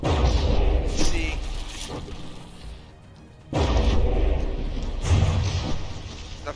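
Heavy battleship shells slam into a turret in the video game From the Depths, a series of loud booming impacts with crashing tails, spaced irregularly around a short quieter lull.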